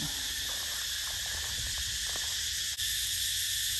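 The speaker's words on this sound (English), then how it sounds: "Cicadas are really noisy this afternoon." Cicadas on a Thai house-build site on a hot afternoon, a dense steady high-pitched drone filling the air without a break, with faint low rustling and scattered knocks underneath.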